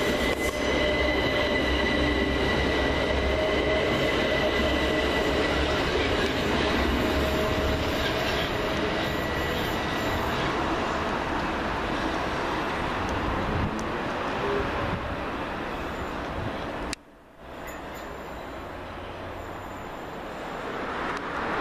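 A Southern Railway class 377 train arrives at West Norwood station on a London Bridge to London Victoria service, its wheels squealing and rumbling loudly over the rails in a long sustained pass with a brief drop partway through.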